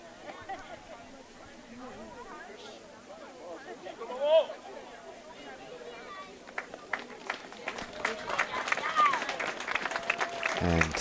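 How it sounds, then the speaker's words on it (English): Spectators at a women's college soccer championship final applaud an injured player as she gets up, scattered distant clapping rising under a commentator's voice and crowd murmur. "A round of applause from both sets of spectators."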